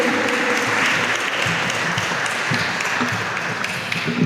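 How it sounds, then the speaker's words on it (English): An audience applauds scholarship recipients at a Hispanic Heritage Month opening ceremony: steady, dense clapping from a crowd that holds an even level for the full stretch. "Let's give them a round of applause."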